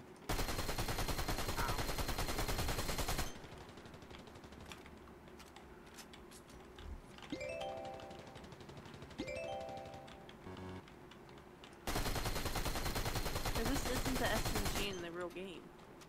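SMG fire in Fortnite Creative: two loud, sustained bursts of rapid automatic shots, one at the start and one near the end, separated by quieter stretches of game clicks and chirping effects, with faint talk underneath.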